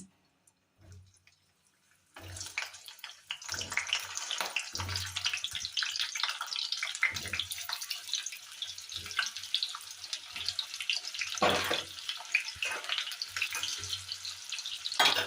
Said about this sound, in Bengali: তেল গরম হয়ে গেছে, এবার আমি আলুগুলোকে ভেজে নেব